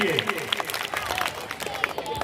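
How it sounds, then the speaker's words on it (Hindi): Audience at a school drama claps for a young girl performer, scattered applause mixed with crowd murmur and speech, moderate level. "जोरदार तालियां माता एक बार जरूर बजा दें इस बिटिया के लिए"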